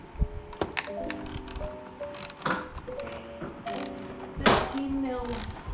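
A socket wrench ratchets on a car battery terminal with close, irregular bursts of metallic clicking and clunks, with brief voices nearby.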